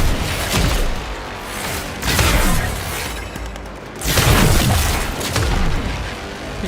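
Heavy artillery fire in the Warframe game: loud, booming blasts roll out in several long rumbling waves, close and dense, with no talk over them.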